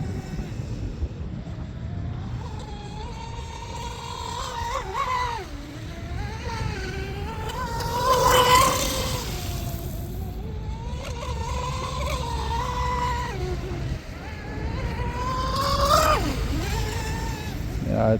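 An M700 mono DIY RC boat's electric motor whines as it runs on water, rising and falling in pitch with throttle changes, moderately loud at a distance, while people talk over it.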